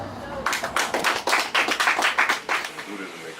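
An audience clapping in a brief burst of applause, close and fairly loud, with distinct overlapping claps for about three seconds.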